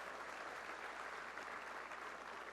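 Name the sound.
church congregation applauding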